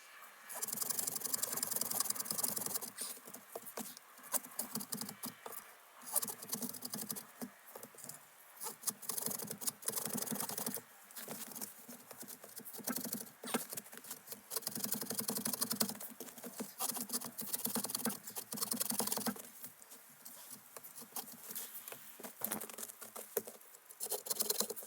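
Schrade SCAXE9 hatchet saw cutting wood held at 90 degrees, a steady, fast rasping of teeth on wood with rhythmic strokes, faint and continuous throughout.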